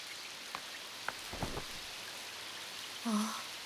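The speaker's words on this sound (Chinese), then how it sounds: "下雨了。" Steady rain falls in an animated cartoon scene, a soft continuous hiss with a few brief taps and knocks and a short louder sound near the end.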